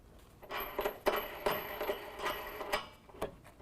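Small metal clicks and taps as a washer and nut are fitted onto a pinch weld bolt while installing N-Fab hooped wheel-to-wheel nerf bars on a 2017 Chevy Duramax, several light close clinks spread irregularly over a few seconds.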